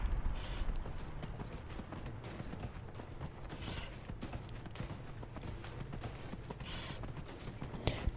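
Horse hooves clip-clop at a steady gallop in Dragon Age: Inquisition, a continuous rhythmic drumming held close and moderately loud for the whole stretch, with no voices.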